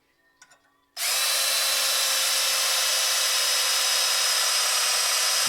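After a second of near silence, a power drill fitted with a sharper bit kicks in and bores continuously, a loud, steady high whine that holds at full strength right to the end.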